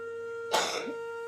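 A single short cough, close and sharp, in an otherwise quiet room with a faint steady hum in the background.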